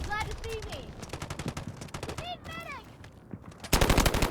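Gunfire in the mobile shooter Delta Force Mobile: rapid automatic bursts rattling steadily, mixed with game effects and a voice talking, then a louder, denser burst of fire at the end.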